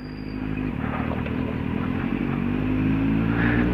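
A Kawasaki Z750 motorcycle rides at night, its engine droning in a steady low hum with some clatter and bumps as it rolls over railway tracks, rising slightly toward the end.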